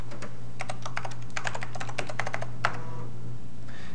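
A DOS install command is typed on a 1993-era PC computer keyboard, a rapid string of crisp close key clicks with short pauses, heard alone.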